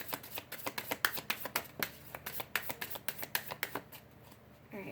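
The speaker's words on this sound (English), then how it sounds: "I've never had to do that many, that many, you know, shuffles" A deck of cards riffled repeatedly, crisp rapid flutters in quick bursts close by, followed by a brief quieter pause.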